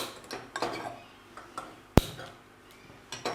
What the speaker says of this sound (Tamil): ஒரு பாத்திரம் வச்சுக்கோங்க